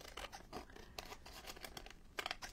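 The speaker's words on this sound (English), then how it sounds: "If I can hold my scissors straight." Scissors make short snipping cuts through paper during junk journal crafting, giving quiet crisp clicks and rustles with a brief louder cluster near the end.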